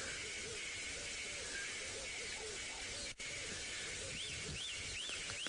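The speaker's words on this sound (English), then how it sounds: "It's a red-eyed dove, and you hear it's calling." A red-eyed dove coos repeatedly at a distance during a sunrise safari drive in the African bush, faint beneath a steady hissing background with other birds whistling.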